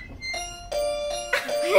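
In the video game Do Not Disturb, a dog imitates a doorbell with three short, bright, tonal calls spaced about a third of a second apart, the last one followed by a louder, harsher burst.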